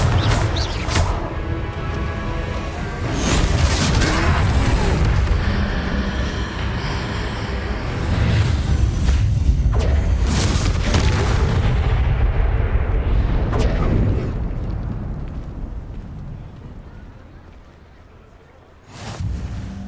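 Confringo blasting curse explosions in Hogwarts Legacy, repeated heavy booms and crackling blasts over a rumbling game battle, followed by a quieter tail and one last sharp burst near the end.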